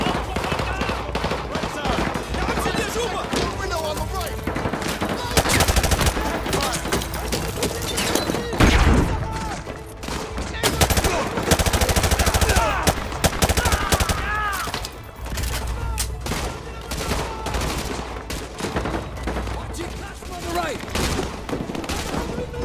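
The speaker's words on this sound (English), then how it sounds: "We're taking heavy fire from the school." Heavy, sustained gunfire rattles throughout a Call of Duty: Modern Warfare 2 firefight, with dense machine-gun bursts, thuds and booms layered together, loud and continuous.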